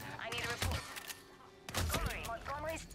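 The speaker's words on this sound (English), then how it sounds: "blast away with your shotgun" Two shotgun blasts from the Hitman 3 game in its Berlin level, loud booming shots about a second apart with busy game sounds and a talking voice in between.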